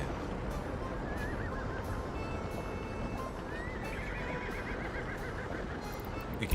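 A horse in a video game whinnies in a rising, wavering call over a steady background hum, with a second longer neigh trailing off near the end.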